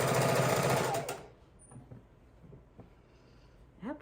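A sewing machine stitches quilt blocks together in a fast, rhythmic mechanical burst that stops after about a second, leaving quiet handling noises and a short voice at the end.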